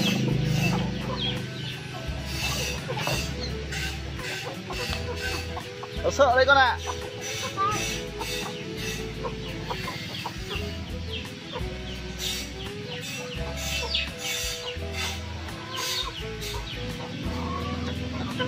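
A flock of chickens clucks and wanders around a home yard, with soft overlapping clucks continuing through the scene while people talk nearby and a brief louder squawk rises midway.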